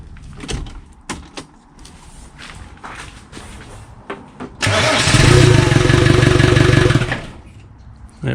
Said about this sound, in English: we're going to go for a start, first start after the new timing belt